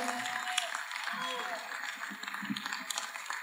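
A crowd claps at the opening of an international film and environment festival, a broad, fairly soft patter running throughout beneath a voice that talks into a microphone.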